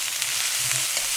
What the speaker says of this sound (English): More sizzle.